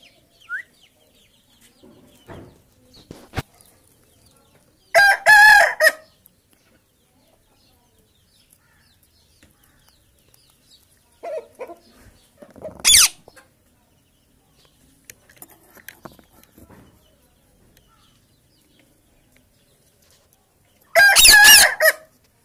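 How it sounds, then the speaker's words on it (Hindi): A rooster crows three times in a row of loud, separate bursts, the calls set apart by quieter clucking and scratching sounds, in a home where a pet parrot is also kept. "चले जाओ मुर्गी"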